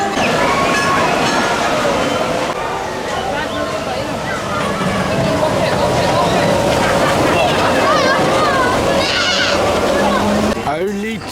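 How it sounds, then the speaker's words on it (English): Runaway Mine Train roller coaster at Alton Towers rattling along its track, a continuous rumbling clatter with riders' voices and shouts over it throughout. "First ride up, Catania Canyon's Runaway Mine Train."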